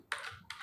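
Two quick keystrokes on a computer keyboard during accounting data entry, close and soft clicks about half a second apart over a quiet background.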